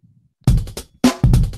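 Percussive drum hits from the Scratch sound library, a few loud broadband strikes in quick succession after a faint low murmur, each with a short decaying tail.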